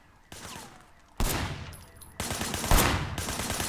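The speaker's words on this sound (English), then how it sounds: "Just pop off a few shots." Bursts of rapid gunfire in the action game Sleeping Dogs, a few separate volleys of loud, sharp shots with short pauses between them.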